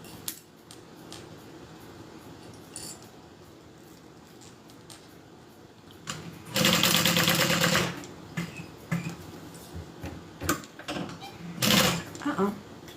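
A sewing machine stitches a handbag in two loud bursts, a steady run of about a second and a shorter one later, set apart by quieter room noise and small handling clicks.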